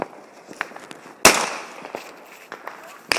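A firework launched on New Year's in Anchorage, lit with a boat torch, bursts with one sharp, loud crack, followed by faint pops and a second sharp report near the end.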